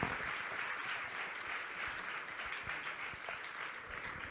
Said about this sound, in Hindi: आपकी तालियां इस अभिनंदन में सहभागिता दर्ज करा रही हैं